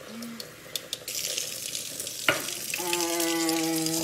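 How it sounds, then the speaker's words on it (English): Tap water pours into a container during a water demonstration: a few soft clicks, then a steady hissing gush that ends with a brief knock and a rising tonal ring as the water keeps running. "Tap water going in."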